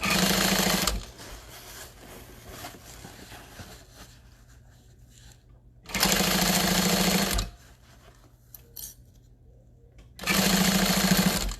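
Sewing machine stitching a tote bag seam in three loud bursts of steady, fast motor whirring, separated by quieter pauses with faint handling noise.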